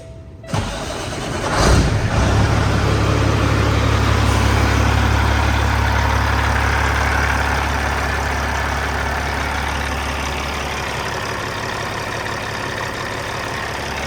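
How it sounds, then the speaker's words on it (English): CAT 6NZ diesel in a 2014 Peterbilt 389 glider cranking briefly and firing up, then settling into a loud, steady low idle rumble close by. "let's do a little test start"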